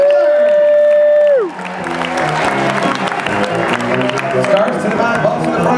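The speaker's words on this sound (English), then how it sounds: "Give them a round of applause for the scarf juggler." An audience bursts into applause and cheering for a scarf juggler at a live juggling show; a sustained, dense roar of clapping follows a rising electronic tone, with a voice talking over it.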